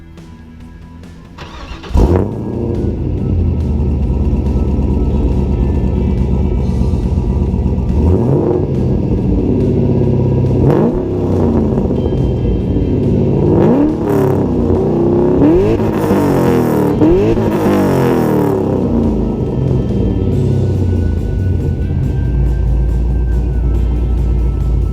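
An LS-swapped third-generation car with an SLP Loudmouth 2 exhaust fires up from warm, catching with a sharp burst, then settling into a loud, steady rumble with several revs that rise and fall, close to the car and with no talking.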